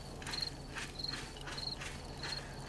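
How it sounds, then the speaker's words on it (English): Crickets chirp at night in the video game 7 Days to Die, with four evenly spaced high trills over a quiet, faintly hissing background. "All right, the crickets have come out."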